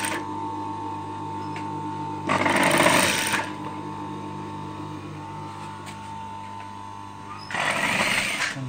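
A domestic sewing machine stitching the shoulder seam of a girls' hooded capuche, a steady mechanical whir with two louder rattling bursts of fast stitching, close by, with no talking.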